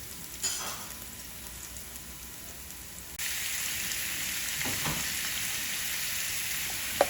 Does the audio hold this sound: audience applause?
no